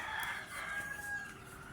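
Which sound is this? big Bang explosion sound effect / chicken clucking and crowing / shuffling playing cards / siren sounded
chicken clucking and crowing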